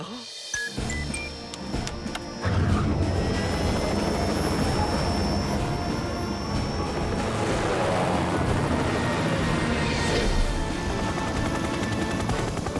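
A helicopter's steady, dense rotor roar fills the scene continuously, loud and close, with a brief burst of sharper noise at the start.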